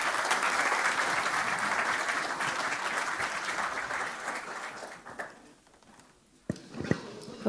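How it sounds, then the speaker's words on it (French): Audience applause for a tech lead at a technical department evening, a dense, steady roar of clapping that thins and fades out around five seconds, leaving near-silence with a few faint bumps and handling sounds. "un tonnerre d'applaudissements pour elle, s'il vous plaît."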